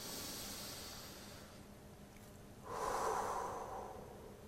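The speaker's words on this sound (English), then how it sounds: "take a deep breath with me" A single deep breath drawn in, a soft rushing inhale that swells and holds for about two seconds, close and fairly loud against a quiet background hiss.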